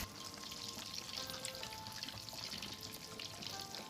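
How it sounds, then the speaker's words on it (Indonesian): Egg-dipped tofu frying in hot oil over medium heat, a steady, close crackling sizzle that runs continuously at low volume with no voices. "Digoreng pada minyak yang sudah panas, jangan sampai menunggu minyaknya berasap, dan digoreng pada volume api sedang."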